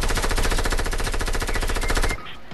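Sustained rapid machine gun fire in the video game Fortnite, loud and close, a dense rattling burst running about two seconds before cutting off abruptly into quieter ambience.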